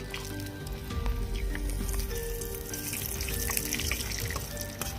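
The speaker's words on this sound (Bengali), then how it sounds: "শুকনো লঙ্কা, জিরে ফোড়ন দিয়ে নেব।" Bay leaf, dried chilli and cumin frying in hot oil in a village kitchen, a close, steady crackling sizzle with scattered pops throughout, no talking.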